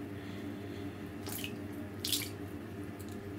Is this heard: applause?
no